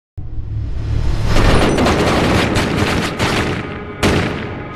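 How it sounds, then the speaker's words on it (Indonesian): A dense burst of gunfire fills a film action scene, loud and continuous for several seconds with rapid overlapping shots, then briefly dips before a final blast. "akhirnya Denny tertangkap dan si Jojo harus koit di berondong peluru karena ingin melawan"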